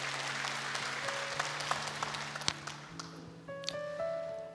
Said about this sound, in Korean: 우리 박수로 맞아주세요.